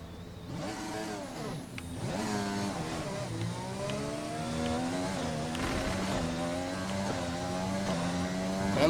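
A Formula 1 race car engine at the Baku Grand Prix in the F1 video game screams continuously, its pitch sweeping up and down as it is held near full revs, loud and alone.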